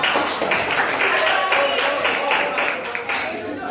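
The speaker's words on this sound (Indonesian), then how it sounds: "Tepuk tangan nih dong" A small audience gives a few seconds of brisk, fairly loud clapping that fades toward the end, with voices mixed in.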